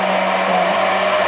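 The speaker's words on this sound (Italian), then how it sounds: "la vado a mettere nel bicchiere del mini pimer per frullarla" A Mini Pimer immersion blender purees cooked pumpkin, a loud, steady motor whir with a constant hum and no pauses, close up.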